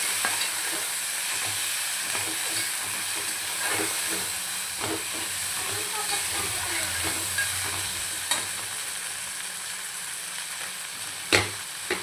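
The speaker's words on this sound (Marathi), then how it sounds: "अद्रक लसूण पेस्ट टाकू छान असं तेलात परतून" Ginger garlic paste fries in hot oil in a pan while a spoon stirs it, a steady close sizzle and hiss with scraping stir strokes and a few sharp clinks near the end, no talking.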